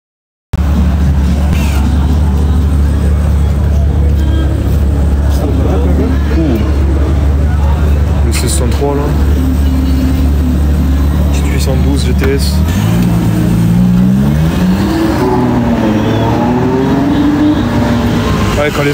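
Ferrari 812 Competizione, F12 TDF and Lamborghini Aventador SVJ supercars at an evening car gathering: loud, steady engine drone that climbs into a rising rev midway, with people talking over it throughout.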